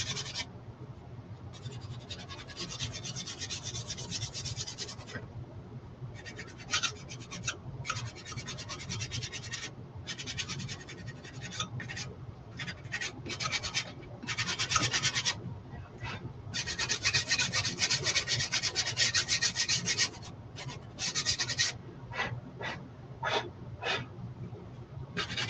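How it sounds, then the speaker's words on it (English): Repeated scratchy back-and-forth rasping of a nail file sanding an edge, in short strokes and bursts, close and fairly quiet. "I think I'm going to do some sanding just around the edges with my little nail file here"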